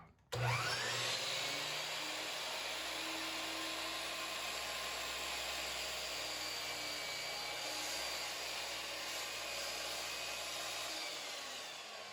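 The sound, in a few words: miter saw making cuts in wood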